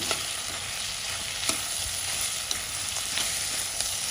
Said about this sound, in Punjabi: ਇਹਨਾਂ ਨੂੰ ਹੁਣ ਆਪਾਂ ਮਿਕਸ ਕਰ ਦੇਵਾਂਗੇ